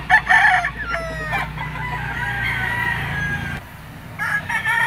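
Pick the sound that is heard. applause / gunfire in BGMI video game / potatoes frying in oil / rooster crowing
rooster crowing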